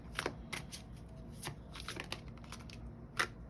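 Tarot cards are shuffled close up and quietly, giving a series of soft, crisp riffling bursts at irregular intervals with no talking.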